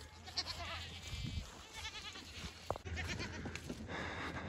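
Several goats bleat at moderate distance, overlapping calls scattered over a faint outdoor background.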